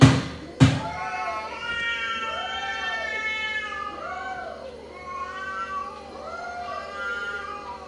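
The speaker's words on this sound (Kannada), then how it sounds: "ಅದೊಂದು ಬೆಕ್ಕು ಎಂತ ಒಂಥರ ಒಂಥರ ವಿಚಿತ್ರ ತರ ಕೂಗುದು" A cat giving strange, drawn-out wailing cries that sound like a baby, several rising and falling calls in a row, fairly close and loud, with no one talking.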